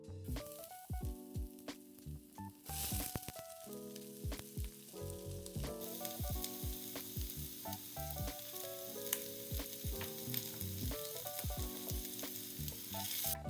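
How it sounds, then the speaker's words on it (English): Garlic, onions and peppercorns sizzle in hot oil in a pan for pork adobo, a steady loud frying crackle with occasional stirring clatter and no talking. "Once the oil is hot, we're gonna add our garlic, onions, and peppercorns."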